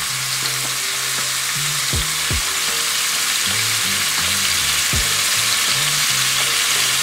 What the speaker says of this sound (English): I'm gonna put all this shrimp in there.